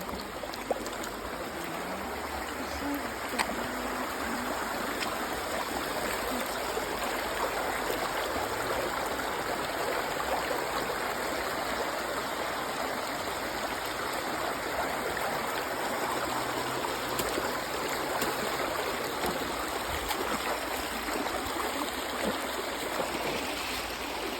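Steady rushing water of a flooding river flows continuously, a broad, even roar with no pauses, close and fairly loud throughout.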